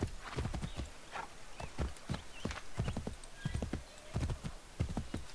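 A horse in Assassin's Creed 3 clip-clops steadily at a brisk, regular gait, its hoofbeats clear and fairly close, with a faint whinny in the mix.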